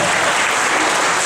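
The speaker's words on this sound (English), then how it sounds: "Let's clap, let's give a big round of applause here." A graduation audience at a Khmer American community ceremony in Modesto breaks into a dense, steady wash of applause, loud and close, holding at full strength from start to finish with no voices rising above it.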